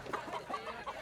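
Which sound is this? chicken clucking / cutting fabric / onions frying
chicken clucking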